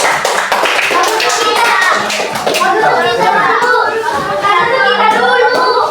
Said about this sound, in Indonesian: Ya, tepuk tangan dulu untuk mereka